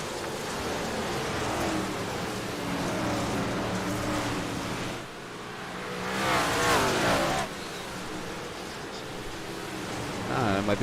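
Dirt track race cars battle for the lead at a Lanier short-track event, engines roaring as a steady broadband rumble that swells and fades as they pass, with a surge of noise midway and crowd or track ambience.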